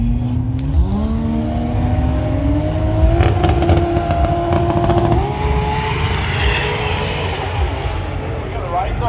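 Two six-cylinder drag cars, a 2JZ and an RB, launch and pull hard at a Brisbane drag strip jamboree, their engines rising steadily in pitch through the gears, loud and close with a crowd and announcer talking over them.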